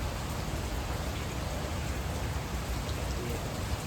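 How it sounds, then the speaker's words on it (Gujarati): Rain pours down in a dense, constant hiss with no pauses, loud and close, alone without any voices. "ભાઈ વરસાદ છે ચાલુ"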